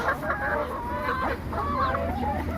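Several laying hens cluck and chatter close by in a continuous overlapping flurry, with no talking.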